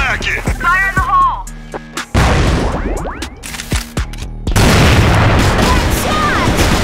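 A grenade blast in the online shooter CrossFire, a booming burst amid game gunfire and effects, with a voice shouting over the action.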